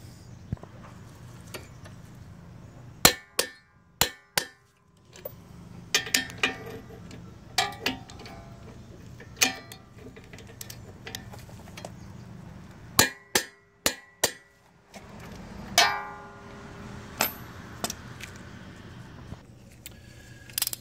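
Suspension bolts are torqued on a 2012 Nissan Altima 2.5L, with sharp metallic clicks and ratchet ticks coming in scattered bursts over a low, quiet hum, no talking.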